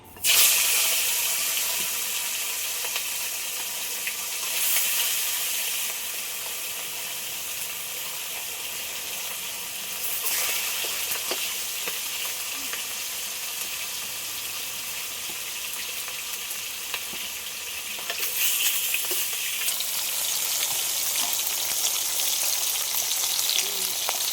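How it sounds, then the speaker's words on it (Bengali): Silver pomfret from a 3 kg catch fries in mustard oil in a wok, a loud, continuous crackling sizzle that holds for the whole stretch and surges a few times. "ওই মাছগুলো সব ভেজে নেবো"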